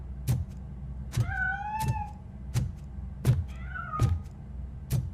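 Two cat meows rising and falling, heard inside the video game Robocop Rogue City, with rhythmic thudding footsteps or impacts repeating through the scene and a low background hum.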